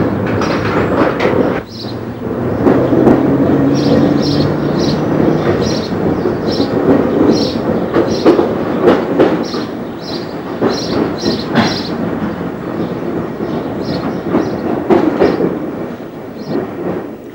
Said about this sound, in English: the train trundles into Ongar Station